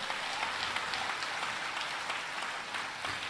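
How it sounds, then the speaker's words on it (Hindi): A large audience claps loudly and continuously at a religious gathering in Fiji, a dense, even roar of applause with no voices over it. "जोरदार ताली बजा करके धन्यवाद दो"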